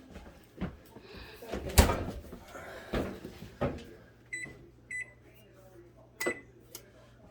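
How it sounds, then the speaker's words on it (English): An oven door and rack clunk as chicken wings go back in under a low broil, with a few sharp metallic clicks and bangs, close and moderately loud, amid brief kitchen handling noise. "put it back in the oven on a low broil for just a few, maybe 2-3 minutes"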